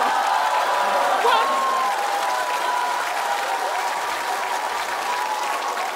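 A live comedy audience applauds in a sustained, even wash of clapping that carries steadily from start to finish and tapers only slightly.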